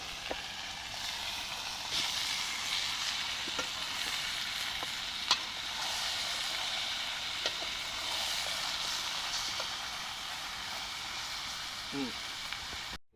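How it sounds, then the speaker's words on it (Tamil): Meat sizzles and crackles steadily as it is stir-fried in a pan during village cooking, with occasional clinks of the stirring utensil and a voice briefly heard near the end. "கிண்டியோட கறி கொட்டிய பிறகு நன்றாக வதக்கவும்"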